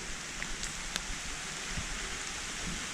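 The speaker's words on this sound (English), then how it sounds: "If you listen, you can hear it raining pretty good right now" Rain falls steadily through the tree canopy along a Camino hiking trail, making a continuous even hiss with scattered faint drip ticks, alone and without voices.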